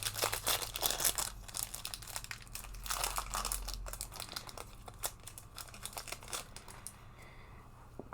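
A Wilds of Eldraine card pack wrapper being torn and opened, with close, crisp crinkling and tearing in quick irregular bursts, fading to quieter rustles near the end.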